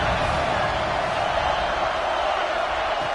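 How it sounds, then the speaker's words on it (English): A loud, sustained crowd roar swells through a football video game stadium on third down, a constant broadband cheer with no voices standing out. "Third down, and the crowd really getting into it."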